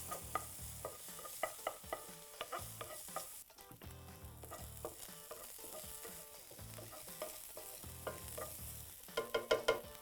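Refried beans stirred in a pan for black bean nachos, a close, thick frying sizzle with repeated spoon scrapes and taps in an uneven rhythm, a brief lull midway, then a cluster of louder clacks near the end.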